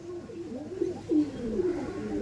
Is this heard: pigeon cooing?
yes